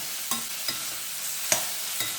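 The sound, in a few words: onion chutney ingredients frying and being stirred in oil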